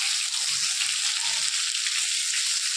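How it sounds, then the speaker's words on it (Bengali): Oil spatters and crackles in a pan of spices frying for chana masala after salt goes in. A bright, continuous sizzle with soft low bumps of stirring underneath. "নুন দিয়ে নিলে চারিদিকে যে তেলটা ছিটছে,"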